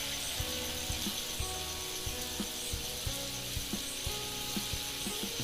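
Bhakarwadi snacks fry in oil over a low flame, a continuous fizzing sizzle with faint rhythmic clicks running underneath.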